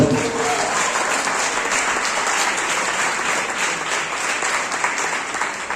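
A church congregation claps for the Lord during a service: dense, even applause from many hands, fairly loud and sustained for the whole stretch.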